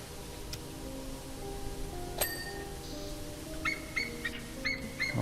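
A bird character in a power-washing video game gives a few faint electronic chirps and bell-like tweets, clustered near the end over a low steady hum.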